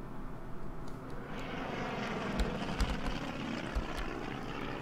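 A reconnaissance plane's engine drones steadily in the World War II strategy game Order of Battle, set around Kiev in a Blitzkrieg campaign, a continuous loud hum with soft thumps in the background.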